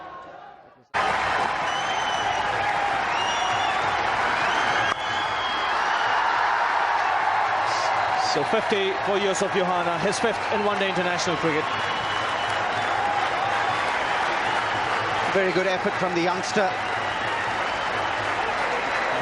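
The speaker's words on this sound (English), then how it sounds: "You see the Pakistani camp applauding his effort." Cricket crowd at a Pakistan versus India one-day international applauding a batsman's fifty, a sustained wash of clapping throughout with commentators talking over it.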